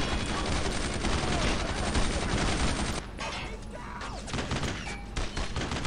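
Dense, loud volleys of gunfire in the WWII shooter Brothers in Arms: Road to Hill 30, rapid overlapping shots and bursts filling the whole stretch, easing slightly midway before more sharp cracks.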